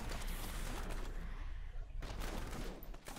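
Rapid volleys of Demon Hunter Multishot fire from Diablo 3 during a boss fight, a dense continuous barrage of gunfire-like bursts with a short dip in the middle before the salvo resumes.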